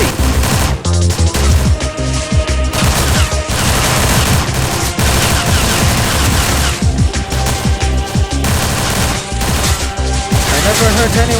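Dense, continuous video game gunfire from several enemies firing at once, loud and relentless, with crashes and impacts mixed into the barrage.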